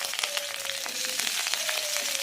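Cumin, fennel, cardamom and garlic fry in oil with a soft, steady sizzle and faint crackling pops, quiet and close.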